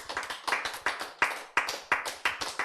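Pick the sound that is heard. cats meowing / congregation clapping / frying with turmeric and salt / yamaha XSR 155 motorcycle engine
congregation clapping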